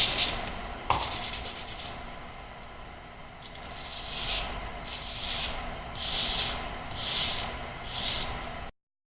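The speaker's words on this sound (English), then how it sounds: "We're going to just do a little bit more wet sanding." Rhythmic back-and-forth rubbing strokes of wet sanding on a blade, steady and close, swelling in regular passes before stopping abruptly.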